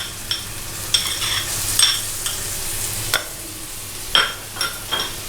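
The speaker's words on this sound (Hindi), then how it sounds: "इसमें हम ये जिंजर एंड गार्लिक डालेंगे जो भी हमने क्रश किया है।" Crushed ginger and garlic sizzle gently in hot oil in a pan, with a soft continuous fry broken by a few sharp scrapes and clinks of a stirring spoon.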